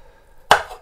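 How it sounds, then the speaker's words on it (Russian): One sharp knife chop through liver lands about halfway in, a brief quiet thud with a short tail, set against near silence. "печень, я нарежу быстренько"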